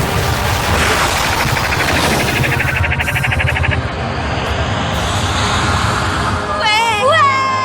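Cartoon laser blasts and gunfire ring out in a space battle, a loud, continuous barrage of rapid zapping shots with whooshing effects, ending in warbling electronic tones.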